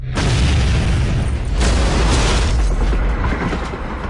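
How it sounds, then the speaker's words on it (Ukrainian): A bomb blast in an action movie trailer, set at the Kremlin, roars as a loud, deep, rumbling explosion that swells and sustains across the whole stretch, with no voice over it. "Годину тому бомба знищила Кремль."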